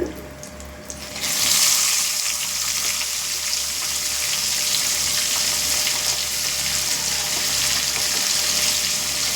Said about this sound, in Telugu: ఇప్పుడు మనం ఇలా డీప్ ఫ్రై చేసుకున్నామంటే